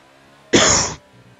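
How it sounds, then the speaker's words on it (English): A man with a cold gives a single harsh cough, a short dry burst lasting about half a second, close and loud against a quiet background. "I'm going to be coughing a few times because I have got a little bit of a cold"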